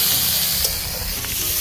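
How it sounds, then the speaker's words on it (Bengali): Spices tossed onto lightly fried onions in hot oil in a wok sizzle and hiss steadily, an outdoor picnic cook-up in rainy jungle countryside, continuous and close with a faint stirring scrape. "এখন আমরা সব মশলা একবারে দিয়ে দিব।"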